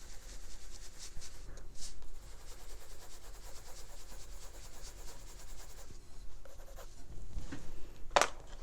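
A Prismacolor colored pencil moves in little circles on a page of an adult coloring book, making a steady, close, soft scratchy rubbing that carries on without a break and ends with a brief sharper scrape.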